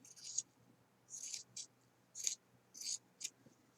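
Scissors make quiet, crisp snips while trimming fabric strips on a flip flop, about six short cuts in an uneven rhythm, close and faint with no talking.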